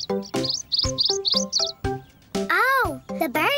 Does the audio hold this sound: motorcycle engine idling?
no